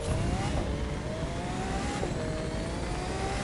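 A Lamborghini Countach engine in The Crew 2 racing game screams at high revs, with pitch climbing and dropping through gear shifts, loud and dense without any talk.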